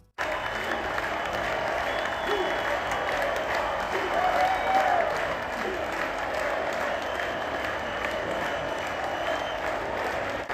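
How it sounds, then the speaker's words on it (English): A Brazilian Grand Prix crowd roars and cheers from the grandstands as a local driver passes, a dense, steady wall of noise held loud throughout, with a brief swell near the middle. "Every time Bortoleto passed by, the stands went absolutely crazy"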